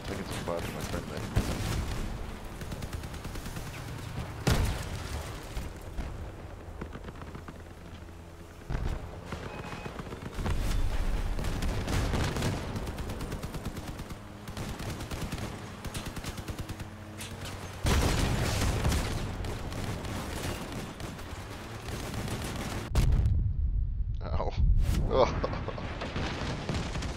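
Gunfire and heavy weapon booms in the vehicle combat game Crossout, continuous rumbling bursts and blasts through the whole stretch, with a player talking over them.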